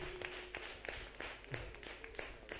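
A church congregation applauds during a Bible study service, with quiet, scattered rhythmic clapping rising in rough pulses for a couple of seconds at low volume.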